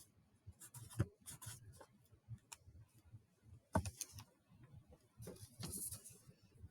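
A pen scratches across paper while a math formula is written out, with short irregular strokes, a few sharper taps, and quiet pauses between bursts, close and soft with no voices.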